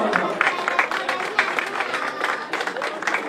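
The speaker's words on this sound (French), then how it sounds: "applaudissements s'il vous plaît encore pour les juniors en femmes" Spectators at the podium of the French roller marathon championship in Locminé clap as a crowd, fairly faint and steady with scattered louder claps for a few seconds.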